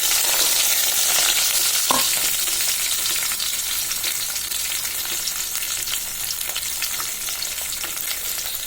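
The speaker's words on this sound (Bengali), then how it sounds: "এবার কেটে রাখা পেঁয়াজ, রসুন, কাঁচামরিচ দিয়ে দিচ্ছি" Chopped onion, garlic and green chilies hit hot oil in a pan, giving a loud, continuous frying sizzle with a sharp clatter of stirring early on, steady and close throughout.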